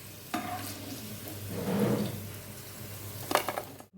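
Potatoes deep frying in oil for restaurant-style Potato 65, a low bubbling sizzle with a swell of activity midway and a few sharp utensil clinks near the end.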